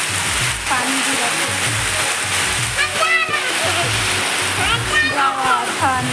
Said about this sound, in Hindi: पानी गिरा